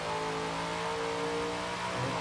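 A car in the racing game Forza Horizon 4 revs its exhaust in one sustained, loud engine drone with steady harmonic tones, no voices over it.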